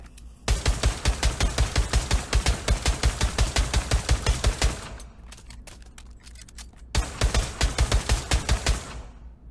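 Tec-9 handgun in Pavlov VR firing rapid rhythmic shots in a long string, a pause with clicking magazine handling for a manual reload, then another fast burst of shots, loud and close.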